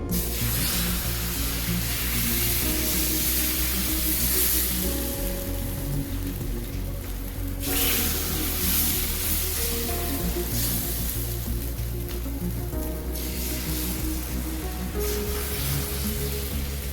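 Rava dosa batter with onion sizzles on a hot pan, making a continuous loud, dense sizzle and hiss that runs through the whole stretch over a steady tonal hum.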